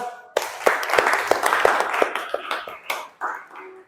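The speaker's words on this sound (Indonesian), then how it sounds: "Beri aplaus, tepuk tangan." Clapping in a classroom setting, a loose cluster of distinct, close hand claps in an irregular rhythm, starting abruptly and thinning out toward the end.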